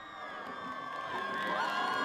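A high school student section cheers in the stands at a football game in Camdenton, a dense wash of distant shouting and whooping that swells slightly toward the end.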